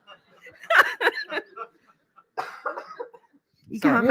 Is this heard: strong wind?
no